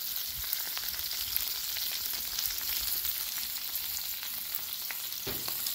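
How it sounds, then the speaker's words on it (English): A pork butt steak sizzles steadily on a hot Blackstone griddle, a loud, even frying hiss that runs unbroken throughout with occasional small pops and no voices. "I'm gonna spread this out, let it caramelize"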